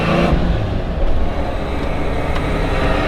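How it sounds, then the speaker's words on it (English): A camper van's carburettor engine roars at high revs on a rolling road dyno, a loud, close, steady raspy drone that fills the whole short stretch. "Got a nice throaty rasp on the old carburettor."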